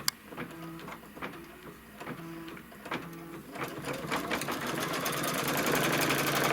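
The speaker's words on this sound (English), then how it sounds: "cover that placement line and stitch the tack down" A sewing machine stitches a tack-down on a quilt block with flex foam, a fairly quiet rhythmic whir of repeated stitch runs that builds into a steadier, louder hum toward the end.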